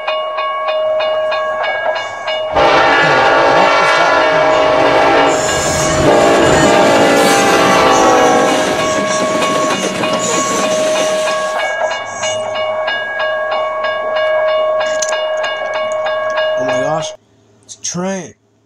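A freight train rolls past with a long blaring horn, heavy rumbling wheels and hissing air that rise loud and close, then fade before a brief noisy bump at the end; a voice speaks faintly near the end.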